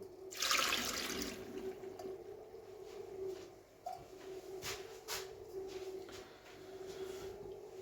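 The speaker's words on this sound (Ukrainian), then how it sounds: "По 600 грам тих і тих оливок разом виливаю із соком." Pitted green and black olives poured out together with their brine, a splashing liquid gush loudest in the first second or so, then smaller trickles and drips for several seconds.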